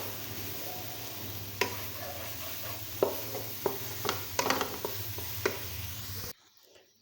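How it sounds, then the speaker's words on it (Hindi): A spoon stirring dry milk powder into a coconut and carrot laddoo mixture, with scattered soft scrapes and taps against the pan over a low steady hum, quiet and close, ending in near silence. "पहले हम उसमें से आधा डालेंगे और अच्छी तरह से चलाएंगे चम्मच को"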